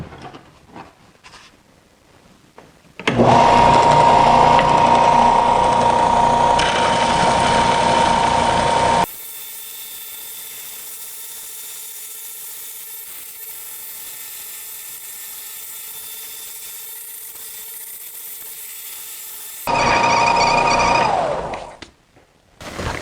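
A power sander working on a Power Wheels C7 front splitter, a loud steady mechanical whir that shifts to a thinner high whine midway, then returns before stopping, with no talk.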